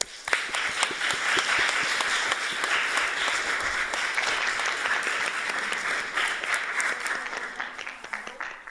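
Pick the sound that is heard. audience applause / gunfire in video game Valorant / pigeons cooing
audience applause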